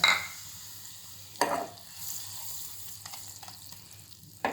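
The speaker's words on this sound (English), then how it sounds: "Let the butter melt." Butter melting in a pan over a low flame gives a soft, steady sizzle and hiss, broken by a couple of light clinks from a utensil.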